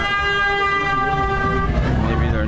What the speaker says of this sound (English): there's a Michigan car that just honked